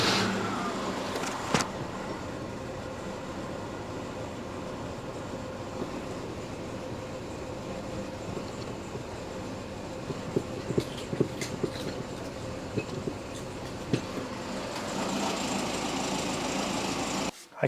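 A Citroen CX GTi idling with the brakes pressed, heard from inside the cabin as a steady low engine hum with faint clicks and mechanical noises.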